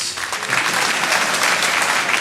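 Theatre audience at the 2014 Royal Variety Performance breaking into loud, sustained applause, dense clapping filling the whole stretch with no voices over it.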